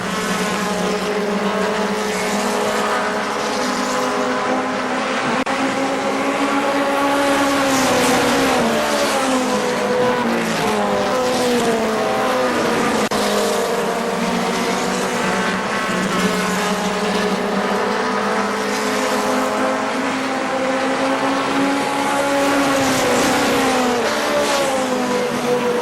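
Race cars roaring around the oval at KilKare Speedway during a Labor Day race, a loud continuous engine drone with shifting revs and pitch as several cars pass close by.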